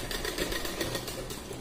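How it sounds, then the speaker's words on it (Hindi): A sewing machine runs steadily while stitching a top, a continuous close whirring with a fast even needle rhythm throughout the short stretch, with no voices over it. "धीरे धीरे धीरे आहिस्ता आहिस्ता ऐसे करके सिलाई चलाना है"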